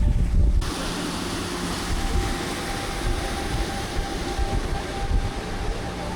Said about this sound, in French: Regardez-moi cette cascade qui tombe directement plusieurs centaines de mètres.